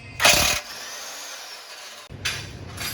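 A power tool zips off the muffler hangers of a Corvette C6 Grand Sport exhaust, two short loud bursts of spinning separated by a quieter stretch, up close in a garage.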